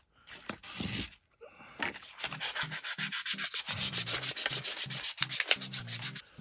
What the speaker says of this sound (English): Doesn't take much to sand. We're just gonna use some 220. Next one, some 400.